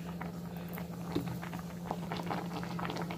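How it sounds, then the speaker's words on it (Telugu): Rice boiling in a pot on a home kitchen stove gives a soft, steady bubbling with small pops and a low hum beneath it, quiet and close, with no talking. "ఇక్కడ అన్నం కూడా ఉడుకుతా ఉంది"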